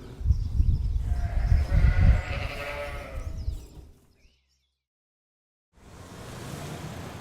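Sheep bleat at a countryside farm where animals are sold, several loud close bleats overlapping at first, then a short silence before steady outdoor background noise returns.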